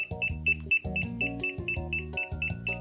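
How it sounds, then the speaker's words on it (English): A cheap Poundland tracker sounds a rapid, regular electronic alarm, beeping in quick repeated bursts of bright tones with no gaps in the pattern. "definitely still beeping"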